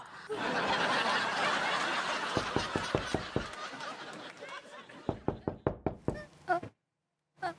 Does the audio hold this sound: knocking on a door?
yes